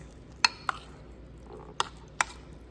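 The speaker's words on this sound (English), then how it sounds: "Give that a nice mix." Spinach artichoke dip being stirred with red pepper flakes, a few sharp spoon-against-bowl clicks and taps spaced irregularly over a quiet background, close and fairly faint.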